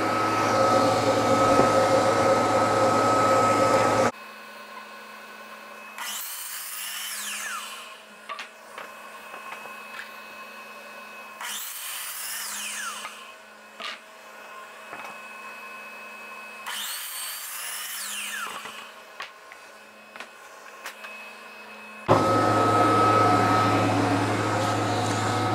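A chop saw slices through wood for a stove cover build while a dust-collection vacuum runs, loud broadband roar bursting in at start and end with quieter cutting and whirring passes between, no talk.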